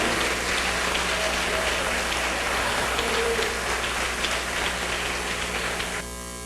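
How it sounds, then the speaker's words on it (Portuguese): A congregation at a church service claps for several seconds, a dense steady crackle of many hands that fades slightly at the end. "Mais forte essas palmas para ele."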